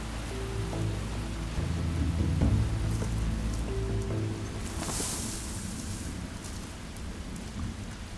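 Heavy rain pours down in a steady, dense hiss, with low rumbling that suggests thunder in the early part, fairly quiet overall and with no voices.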